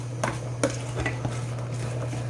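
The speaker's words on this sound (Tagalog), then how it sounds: "Haluin lang natin." Shrimp and onion being stirred in a pan for tortang hipon with labong, giving soft scraping strokes with a few sharper utensil knocks against the pan over a steady low hum.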